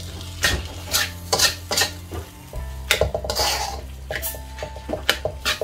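A utensil stirs bakpao bun filling in a pan after chopped spring onion goes in, making repeated scraping strokes and light metallic clinks against the cookware over a soft sizzle, close by and without talk.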